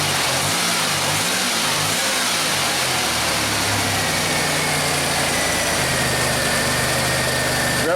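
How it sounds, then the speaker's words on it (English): A 1991 Buick 3800 V6 revs loud and close under the hood, a steady throaty roar with a slight rise and fall in pitch and no voices. "Rev it up."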